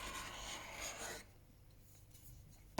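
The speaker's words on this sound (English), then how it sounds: "So I'm just going to scrape from the end." A chisel back scraped from the end across a silicone-lubricated waterstone while flattening it, giving a steady rasping drag for about a second before the surface goes quiet, then a short sharp knock at the end.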